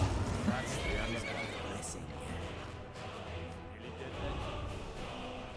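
Skyrim horse whinnying, with clopping hooves in the game world; the neigh sounds faint and is mixed under game music and effects while a voice talks over it.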